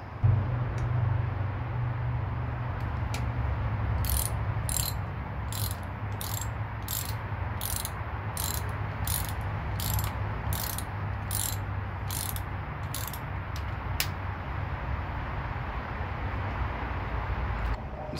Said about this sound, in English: We're gonna push the tensioner up and then tighten it down.